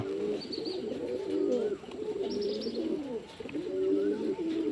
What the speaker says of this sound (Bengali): দেখুন কেমন খাচ্ছে পায়রাগুলো মন দিয়ে একদম মাথা নিচু করে